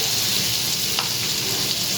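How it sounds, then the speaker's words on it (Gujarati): Butter and oil heating in a frying pan give off a steady, close sizzle with a faint hiss that holds evenly throughout, with no talking. "હવે એક ફ્રાય પેનમાં આપણે 1 ચમચી જેટલું બટર નાખીશું અને 1 ચમચી જેટલું ઓઇલ નાખીશું"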